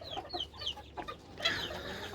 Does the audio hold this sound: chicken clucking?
yes